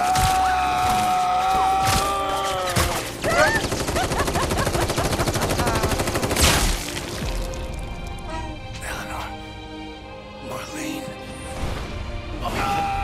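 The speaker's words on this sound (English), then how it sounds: "There's no recoil on that rifle." Rapid bursts of rifle fire from Final Fantasy VII Rebirth, loud and repeated, mixed with game effects and a voice talking over the shooting.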